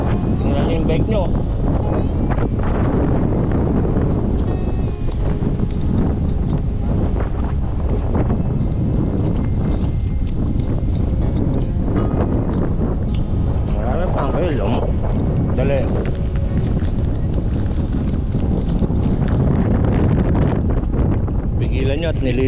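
Loud, continuous wind noise batters the microphone outdoors on a steep Abra-to-Ilocos Sur mountain route, a heavy rumble that barely lets up, with occasional voices buried in it.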